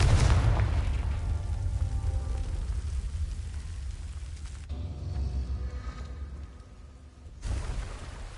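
A Confringo explosive spell goes off in Hogwarts Legacy, with a loud booming blast at the start that rumbles and fades over several seconds, then a lower swell of game noise near the end.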